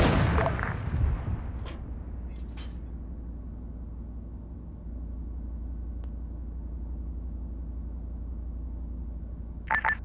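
Tank guns fire an artillery barrage in a military video game: a heavy boom opens, then a long low rumble rolls on, broken by a few sharp distant cracks and a faint late burst.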